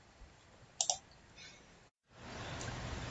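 A computer mouse clicks while circuit simulation software is being used: a quick double click, quiet and close, followed by a brief dropout and then faint room hiss.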